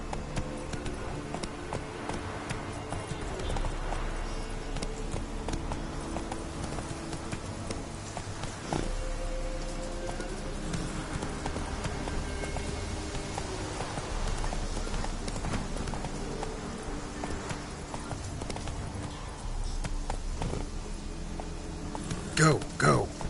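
Hooves of Roach, a horse in the video game The Witcher, clip-clopping in a steady rhythmic gallop throughout, alongside game sounds and occasional talking.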